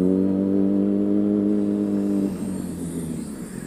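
Busy lunchtime road traffic: a car drones past close by with a steady engine hum that fades away, leaving softer traffic noise and a distant whir, with no talk.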